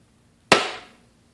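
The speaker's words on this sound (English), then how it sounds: "a quick center punch right here to locate one of the holes" A single sharp metallic tap, like a hammer striking a punch, with a short ringing decay in an otherwise quiet space.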